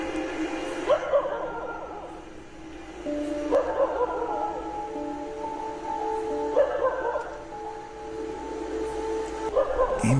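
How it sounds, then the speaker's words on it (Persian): A dog barking toward an abandoned, ruined building outdoors: a few bark bursts spaced several seconds apart over a continuous low background hum, moderately distant, with no talk. "سگم ناکنید مستقیم داره به اون سمت واق میزنه."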